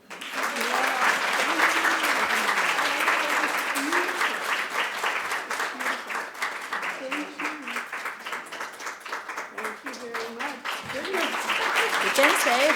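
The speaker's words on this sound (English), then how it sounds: "Please applause." An audience applauds at an autism summit award presentation, with steady, dense clapping sustained throughout, loud and close, with some voices murmuring underneath.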